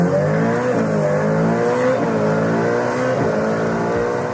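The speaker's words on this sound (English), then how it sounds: "revs, soprano, thrilling, metallic sounds" A Ferrari SF90 Spider's engine revs hard and climbs through rising, metallic high-pitched tones, with gear-like steps in pitch, loud and close without talk.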